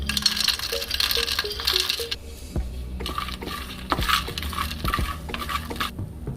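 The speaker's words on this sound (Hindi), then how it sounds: "तो घी गरम हो गया है, अब मैं इसमें सिंपल मखाना ऐड करने लगी हूँ।" Makhana (fox nuts) tumble into hot desi ghee in a pan with a burst of rattling clicks, then scattered nutty taps and stirring scrapes against the metal over a soft sizzle, close and fairly quiet.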